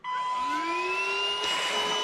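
A Zyxrona cordless vacuum cleaner runs steadily and loudly on its own, its motor whine climbing in pitch as it spins up and then holding a sustained high tone.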